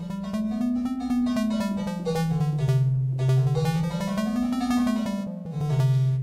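A musical scale played in Zarlino tuning within 22 equal temperament, a sustained tone gliding stepwise up and down in a continuous, steady line with rich harmonics, loud and alone.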